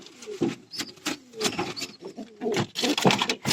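Several pigeons coo in low, throaty bursts close by, with soft rustling and flutter among the calls.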